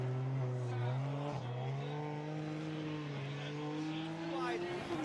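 Formula Drift Japan cars, including an E92 BMW, racing side by side in tandem, their engines droning loudly and steadily with revving rises, while a commentator talks over the noise throughout.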